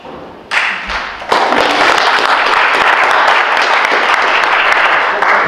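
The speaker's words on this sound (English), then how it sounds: "We're going to hold the applause until the end just so we can get through this" Audience at a township candidate forum breaks into loud, sustained applause after a candidate finishes speaking, a dense wash of clapping swelling in and holding steady.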